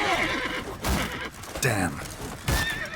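Horse neighs and whinnies with galloping clip-clop in The Witcher 3 Blood and Wine, arriving in bursts over a noisy battle scene, loud and close, with someone briefly speaking.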